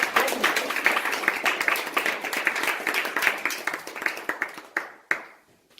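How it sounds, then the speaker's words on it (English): An audience at a speech claps steadily for several seconds, a dense wash of many hands that thins out and fades to a few last claps. "With a round of applause, help me to welcome Dominic with his speech titled Inner Space."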